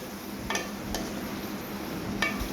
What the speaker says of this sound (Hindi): मैं साथ साथ चम्मच हिलाता जा रहा हूं ताकि मेरा मसाला अच्छी तरह से मिक्स हो जाए